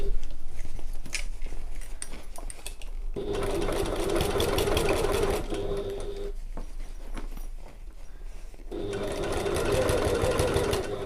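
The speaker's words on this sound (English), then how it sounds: "sew a really neat top stitch around the outside" A sewing machine runs top stitching around the edge of a fabric pocket with a D-ring, two sustained bursts of fast rhythmic needle chatter separated by a pause, close and steady with faint background noise.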